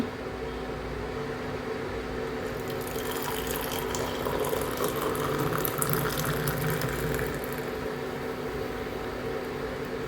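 Boiled, soaked fenugreek water is strained from a bowl, giving a close, steady splashing pour that swells briefly in the middle before easing off, with no voices.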